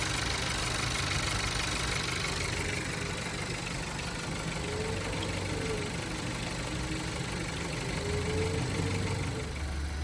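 A car engine running steadily at idle after a jump-start, a constant low rumble with a faint knocking undertone, close and uninterrupted, with no voices.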